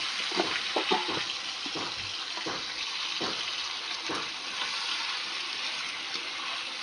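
Marinated chicken sizzles in hot oil in a wok tempered with bay leaf and dried chillies, a steady loud hiss with a few spatter bursts and soft stirring taps, no voices.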